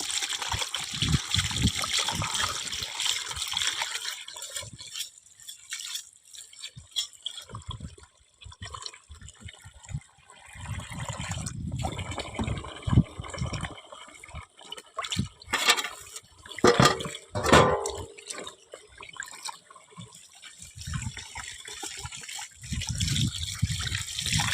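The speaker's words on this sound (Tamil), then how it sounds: "நம்ம இந்த காடையை நல்லா கழுவி எடுத்துக்குவோம் தண்ணியில்" Running water splashes and trickles as quail meat is rinsed by hand, with uneven gushes and sloshing bursts; no voices heard.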